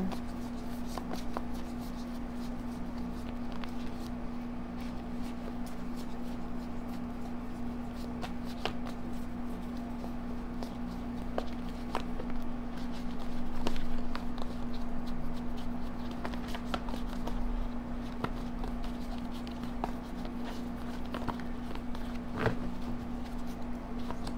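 Tarot cards are shuffled continuously and softly up close, a steady riffling and sliding with occasional taps, under a faint constant hum.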